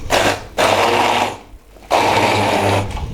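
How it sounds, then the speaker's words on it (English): A handheld stick blender whirs loudly in two long bursts, pureeing cooked liver to a coarse texture for a pork terrine, with a short drop to near silence between the runs. "I'm going to put it in the stick blender and then whiz it to a puree"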